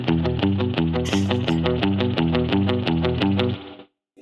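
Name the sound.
spring reverb on guitar, Kemper Profiler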